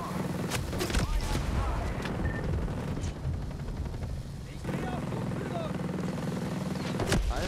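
Helicopter from the Ghost Recon Breakpoint video game, a continuous loud rotor and engine roar filling the whole stretch, with bursts of gunfire and explosions mixed in.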